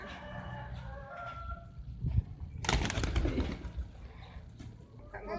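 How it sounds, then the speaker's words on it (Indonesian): Several domestic pigeons coo nearby in low, soft, rolling calls, joined by a burst of rustling or wing flutter midway, with no talking. "Ye, burung daranya banyak."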